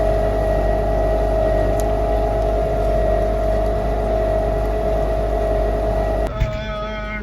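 Tractor ploughing a field in November at about 5 km/h, a loud, steady droning engine hum throughout, close by, with a brief clunk and a change in engine tone near the end.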